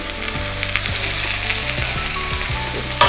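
Pumpkin pieces going into a hot frying pan, a loud close sizzle throughout with scattered knocks and a few light clatters as they land, ending in a sharper bump, with no talking.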